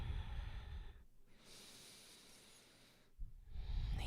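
Slow nasal breathing during a Kundalini yoga morning kriya, two soft drawn-out breaths with a quiet pause between, close and gentle, with no talking.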